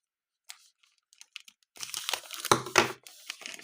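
Scissors cut through packing tape to open a cargo parcel, with a few faint clicks followed by a close burst of crinkling, rasping tape and cardboard noise.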